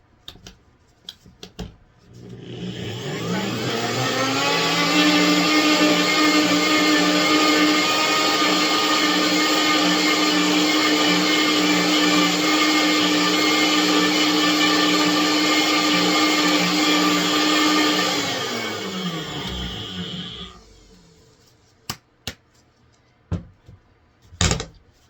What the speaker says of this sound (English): Let me just bring back your blender